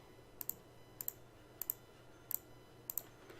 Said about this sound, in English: I hope the clicking isn't too loud.